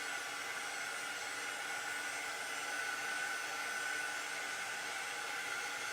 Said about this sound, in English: This is our quick dry tool.